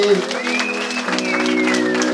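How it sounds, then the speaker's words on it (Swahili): Church congregation clapping together during a worship service, a steady dense wash of applause heard under a sustained organ or keyboard chord with voices mixed in. "Yesu makofi."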